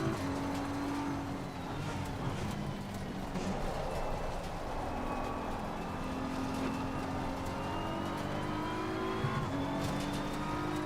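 BMW M4 GT3 race car engine in a racing video game at Watkins Glen, a steady high whine with a rising pitch as it accelerates and a brief shift near the end, heard from the cockpit and constant throughout.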